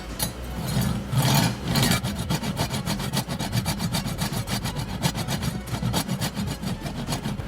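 A knife is drawn repeatedly through a Buffalo Cookware knife sharpener, giving rapid rhythmic rasping scrapes, loud and close, with no talking.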